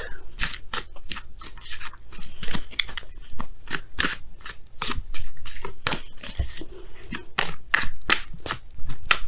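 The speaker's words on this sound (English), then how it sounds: "let's go ahead and pull your Wisdom of the Oracle card" Oracle cards are shuffled and pulled by hand in a rapid series of close, crisp riffles, slaps and flicks, with no one talking.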